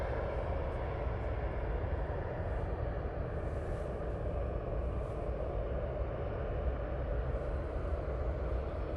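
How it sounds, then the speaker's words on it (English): A Jet2 Airbus A320neo taxis at Manchester Airport, giving a faint, steady engine rumble and hiss that stays level throughout, with no talking heard. "Jet2 320 Neo on the taxi."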